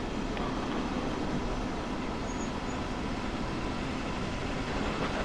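A train picks up speed in the Train Sim World simulator on the Ruhr-Sieg Nord route, a continuous heavy rumble of wheels and rail noise with faint clicks that stays loud and even throughout, without speech.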